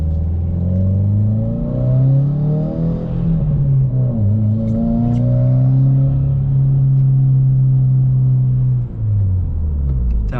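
Loud in-cabin drone of a modified, freshly tuned Subaru WRX accelerating, engine pitch climbing through revs, dipping at a gear change, then rising again in a steady throaty roar.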